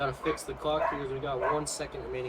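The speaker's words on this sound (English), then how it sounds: "Sorry about the dogs in the background. They keep barking." Dogs bark and yip in the background behind someone commentating a football game, the barks short and repeated, partly masked by his continuous speech.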